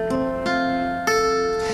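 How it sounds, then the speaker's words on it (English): Fingerpicked acoustic guitar phrase over a held chord, thumb and another finger plucking: clear ringing notes in a steady pattern, with new plucks landing about every half second, close and alone. "So the first bit of finger picking we're going to do is going to sound like this."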